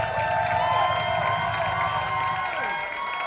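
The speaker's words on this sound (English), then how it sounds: "can we get a massive round of applause as they go and get ready?" A live audience at a drag competition show claps and cheers loudly, with sustained crowd noise and whoops under a tonal music bed that sweeps and fades near the end.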